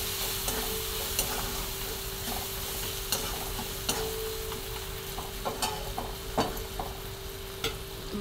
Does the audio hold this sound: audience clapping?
no